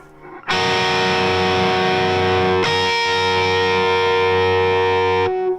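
Distorted electric guitar with effects plays a sustained slide up followed by ringing harmonics; loud and alone, with a fresh attack midway.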